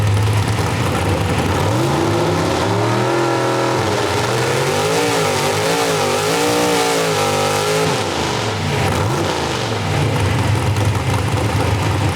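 A car engine held at wide open throttle on a dyno, roaring loud and steady with the pitch rising, dipping and surging as it hunts, close up with no voices.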